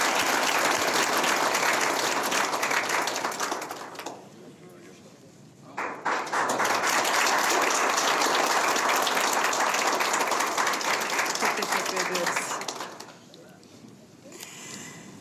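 A studio audience on a Turkish television show applauds loudly as a guest is invited onto the stage, with dense clapping, a short lull, then a second long burst of applause and voices nearby.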